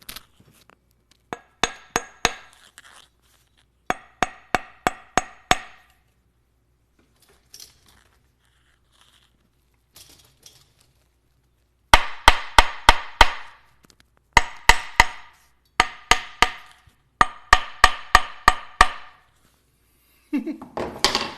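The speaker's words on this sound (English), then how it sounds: "which is the hammer and the hollow sound." A hammer taps a hollow-sounding rock in quick bursts of sharp metallic strikes, groups of four to six blows separated by pauses, close and clear with no talk over them.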